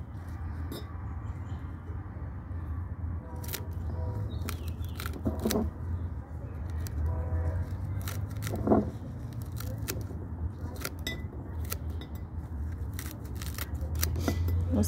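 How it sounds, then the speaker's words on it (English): Scissors make sharp repeated snips while cutting dried burdock root into pieces, the close crisp cuts irregularly spaced over a low steady background hum. "I'm just going to cut it in pieces and put it in the jar."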